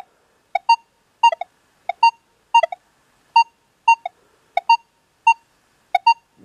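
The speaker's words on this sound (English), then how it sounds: "You get to hear that detector" Clean, close electronic beeps from a Minelab Manticore or E-Trac metal detector sounding over a quarter and a bottlecap, paired two-tone chirps repeating roughly every 0.7 seconds against near silence.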